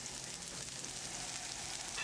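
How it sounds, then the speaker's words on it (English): Onions browning in hot oil crackle with a steady, even sizzle that holds unbroken from start to finish, close and moderately loud, with no voices. "Okay, you brown the onions a little bit."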